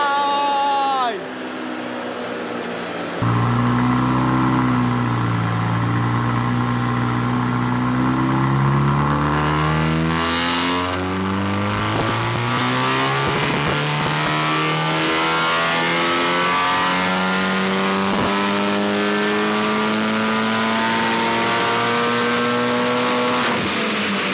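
A forged Audi S3 8V engine revs hard and loud over and over, rising and falling pitch sweeps with a roaring exhaust, heard up close with a brief exclamation from a voice.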